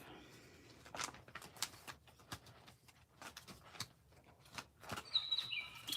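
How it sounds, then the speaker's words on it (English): A bird chirps outdoors in a few short, faint bursts over quiet background noise, with light tapping and rustling nearby from someone working on card sketches. "I hear you, bird."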